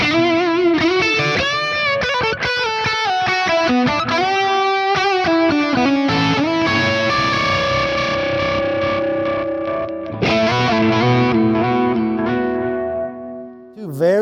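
A heavily distorted electric guitar plays a lead line through a high-gain amplifier, sustained bending notes and quick runs, loud and saturated, ending on a long held note.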